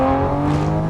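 A tuned car with its Valvetronic exhaust valves switched open, fitted with Euromotive charge pipes, a cold air intake and a Pure 800 turbo upgrade, gives a brief, steady, loud engine drone with a strong droning tone.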